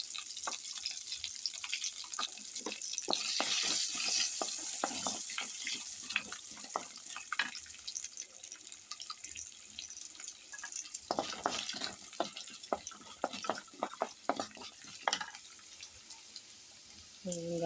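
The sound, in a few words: spices sizzling while tempering in oil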